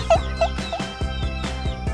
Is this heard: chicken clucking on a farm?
yes